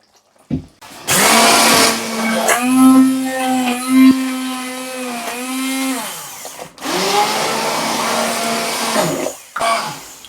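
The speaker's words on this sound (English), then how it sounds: "I'm using a hand blender" A hand blender whirs through creamy broccoli and Stilton soup, running loud and close in two long bursts whose motor pitch wavers and dips as it churns, with short pauses between.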